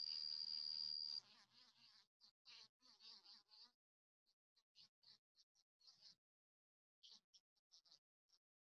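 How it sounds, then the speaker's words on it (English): A bumblebee buzz-pollinating a partridge pea flower gives a loud, sustained high buzz at first, then breaks into short bursts and scattered pulses with silent gaps between them, heard up close and alone. "a bumblebee visiting a partridge pea, but you'll hear her buzzing as she works this flower"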